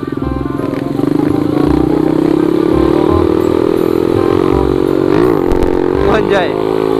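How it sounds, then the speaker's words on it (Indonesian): Motorcycle engine revving up and holding a loud, steady drone during a small-motorcycle street race, with brief clatter and voices mixed in. "Nah, ini motornya cuy."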